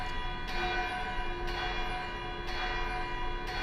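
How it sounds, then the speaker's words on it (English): A bell rings four times at steady, roughly one-second intervals, each strike ringing out over a constant background hum. "once again, you hear the ringing of the bell."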